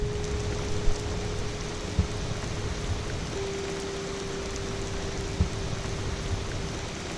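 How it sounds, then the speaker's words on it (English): Steady heavy rain hisses down during a thunderstorm, with a few sharp drips or knocks rising above the constant wash and a faint hum underneath. "So it started to thunder and rain quite bad."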